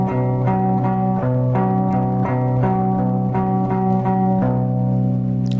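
Electric guitar plays a pattern, a low open sixth-string bass note alternating with a two-string chord on the fourth and fifth strings, strummed in a steady, driving rhythm with sustained ringing tones.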